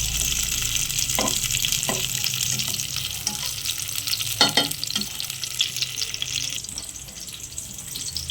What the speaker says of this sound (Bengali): শুধু কিশমিশগুলো একটু ভাজা হচ্ছে